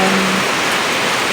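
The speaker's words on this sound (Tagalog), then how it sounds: "Malakas na naman ang ulan." Heavy rain pouring down, a dense, loud and steady hiss of water on surfaces, close by and with no voices over it.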